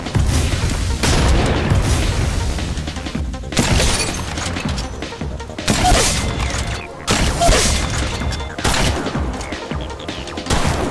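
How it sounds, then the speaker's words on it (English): Thermite grenades and other explosives going off in the mobile battle royale game Apex Legends Mobile, several loud booming bursts with crackling fire and shattering debris at irregular intervals, each trailing off into noisy gameplay ambience. "Throwing thermite grenade."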